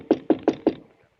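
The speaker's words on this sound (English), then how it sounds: "went to the 5th floor and knocked on the door of room 502" Four sharp, evenly spaced knocks rap on a hotel room door, close and distinct, followed by a brief quiet tail with no voices.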